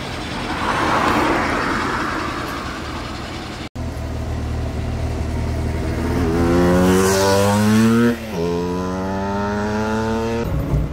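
A 1938 Lagonda LG6 Drop Head Coupé engine runs loudly nearby, idling steadily before revving up in rising, sweeping pulls, then dropping back and climbing again.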